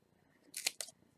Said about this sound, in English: I'm going to get the tape out here, grab my scissors. I'm going to cut off a piece,